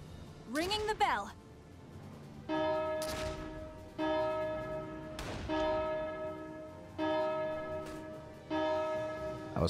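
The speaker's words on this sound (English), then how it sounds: "Ringing the bell." In the PS4 war game Valkyria Chronicles 4, a bell rings out in a series of resonant, evenly spaced strikes, each tolling and fading before the next, loud and close.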